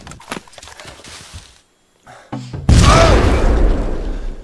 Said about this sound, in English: Grenade exchange here.